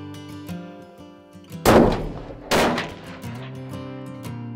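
Two loud, sharp rifle shots from a Bergara Premier Series MG Lite with a carbon barrel in 300 Winchester Magnum, each booming blast rolling off in a short echo outdoors during an elk hunt.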